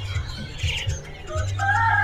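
Male yellow-feathered kenari loper canaries at a bird market, short chirps and tweets mixed with a low coo from other caged birds, moderately close and brisk amid the stall's background noise.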